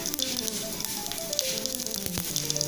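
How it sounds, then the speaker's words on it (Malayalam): Cumin seeds sizzling and crackling in hot oil in a pan, a steady close hiss with small pops running throughout, no voices. "എണ്ണ ചൂടാകുമ്പോൾ അതിലേക്ക് നമുക്ക് കുറച്ച് കുമിൻ സീഡ്സ് ഇട്ട് കൊടുക്കാം"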